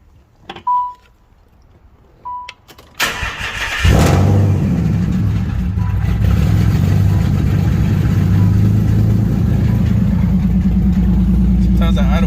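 A car engine cranks and catches after a couple of short electronic beeps, then settles into a loud, uneven idle that runs steadily to the end, with a voice speaking over it.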